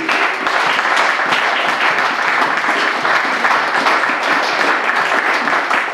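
A congregation at a church service bursts into sustained, loud applause, a dense unbroken wash of clapping from many hands lasting the whole stretch.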